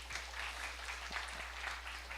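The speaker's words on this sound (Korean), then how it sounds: "우리 다시 한번 우리 박수 한번 칠까요?" A church congregation at a university group's Sunday worship service claps together. The applause is faint and distant, a soft continuous patter over a low steady hum.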